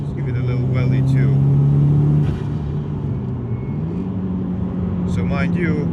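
A Subaru STI accelerates hard from inside the cabin, with a loud steady engine drone that climbs in pitch, drops back, then rises again, while people talk over it.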